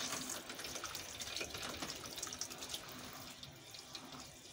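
Steady running hot water pours into a mini washing machine basin in a motorhome, a constant close splashing hiss that continues without pause or talk.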